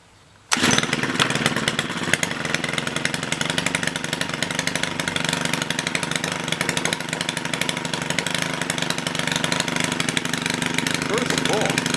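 A Stihl KM130R KombiMotor trimmer engine, its carburetor freshly cleaned, catches on a pull start after brief quiet and settles into a loud, steady, buzzy two-stroke idle heard up close for the rest of the stretch.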